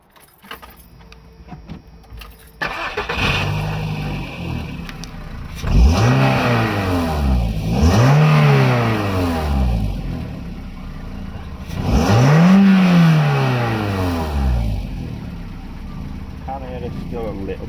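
A Volkswagen car engine revs in several rising and falling bursts with a leaking exhaust giving a faint blowing note, keys jangling and a voice briefly talking near the start.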